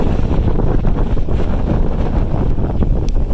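Strong wind roars steadily outdoors while dust blows through the air, a loud, continuous buffeting rush across the microphone with no pauses.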